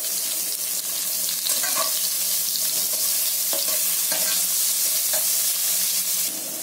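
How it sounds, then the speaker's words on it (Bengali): Onions frying in a pan with spices, a steady loud sizzle throughout with occasional scraping clinks of a stirring spoon, close and continuous. "এবার ওতে আমি একটু পেঁয়াজ দিয়ে দেবো। পেঁয়াজটাকেও ভালো করে ভেজে নেব।"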